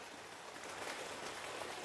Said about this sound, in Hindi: बारिश के साथ साथ बर्फ़बारी हो रही है